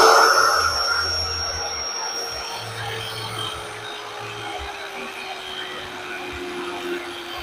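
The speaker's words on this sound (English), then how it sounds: "Not really intended to be a grinding wheel, but if you're careful, you can manage" A grinding wheel runs steadily with a loud, sustained whine that slowly falls in pitch as it spins down, set against a constant mechanical hum.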